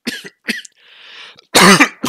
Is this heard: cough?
yes